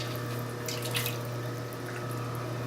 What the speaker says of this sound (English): I'm going to wet my hands